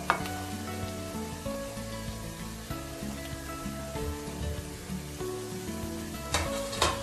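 Grated cabbage and carrot momo filling stirred in a hot pan, a steady soft sizzle with scraping spatula strokes throughout and a brief louder clatter near the end.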